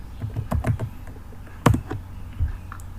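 Keys clatter on a computer keyboard as a Docker command is entered, a quick burst of clicks followed by a sharp louder keystroke and a final lone tap, close and clear with no voice.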